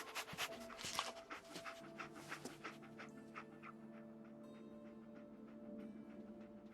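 A dog companion in the Fallout 4 video game pants in quick, steady rhythmic breaths, close and clear, with a faint whimper near the start and a low game hum underneath.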